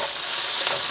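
Ginger and spring onion sizzle in a hot pan for a Chinese black pepper beef stir fry, a brief, loud, steady hiss of frying with no voices over it.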